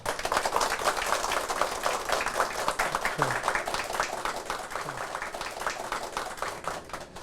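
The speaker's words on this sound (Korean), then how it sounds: "큰 감사와 격려의 박수를 부탁을 드립니다" A talk-concert audience in a church setting gives thanks with steady, continuous clapping throughout, mixed with a voice speaking.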